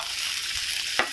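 Onion fries in a pan with cumin, coriander powder and red chilli powder for dahi fry, a brief close sizzle with a sharp stirring clack near the end.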